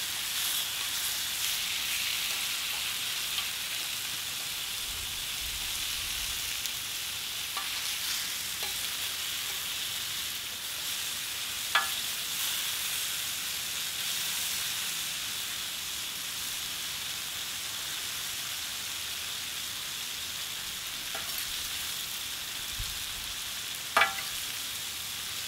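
Pork tenderloin seasoned with paprika sizzles steadily on a hot plancha griddle, a constant close frying hiss broken by a few sharp pops and spatters, with no talk.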